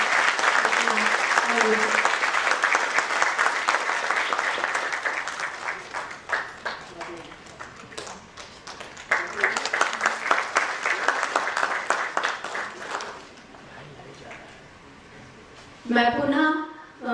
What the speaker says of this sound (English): I request audience for a big round of applause for Dr. Karbhari.